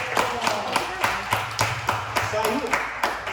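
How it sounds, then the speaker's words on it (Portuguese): A workshop audience claps together in a steady rhythmic beat, each clap crisp and evenly spaced, continuing under a person talking throughout. "Dá um aplauso pro Robertinho aí também."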